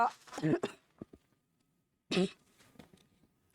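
A couple of short coughs or throat clears, separated by a quiet pause, close and fairly soft.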